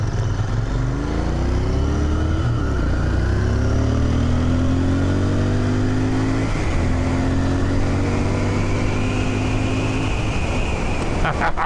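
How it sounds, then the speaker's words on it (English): Motorcycle engine droning loud and close as it rides along, the exhaust note rising and falling through gear changes with a steady rumble throughout, wind noise over it. "I don't know if you can hear the exhaust note on that. This thing sounds so awesome."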